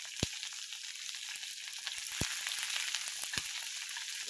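Onion, green chilli and curry leaves fry in a hot pan with a steady, close sizzling hiss, broken by a few sharp clicks of a spoon stirring.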